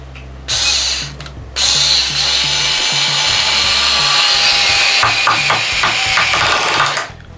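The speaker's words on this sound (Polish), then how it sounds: "I zobaczymy, jak działa ta nasadka momentu obrotowego." A Parkside PAS 4 B2 cordless mini screwdriver whirs loudly and close while driving a small screw, with brief stops and restarts, then a rapid ratcheting rattle as the torque clutch slips, and no talking.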